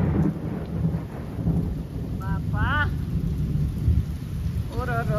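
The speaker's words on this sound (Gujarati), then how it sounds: "પવન સાથી વરસાદ" Heavy rain pours steadily with rumbling thunder and gusts of wind during a monsoon storm, a dense continuous roar with brief bird calls cutting through.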